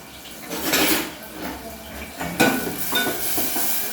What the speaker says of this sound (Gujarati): હું પહેલાં એને ડુંગળી ટામેટાને બરાબર તેલમાં સસલાઈ દઈશ